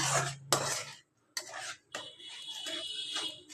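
A spiced masala, loosened with a splash of water, is stirred and scraped in a pan, giving close, clattering bursts of spoon-on-metal noise separated by brief pauses.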